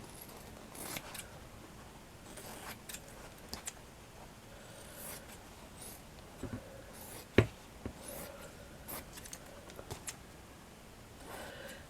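Scissors trim fabric around a miniature 1:12 scale Queen Anne chair, leaving a small margin, heard as a series of soft, close snips and rustles at irregular intervals, with one sharper click midway.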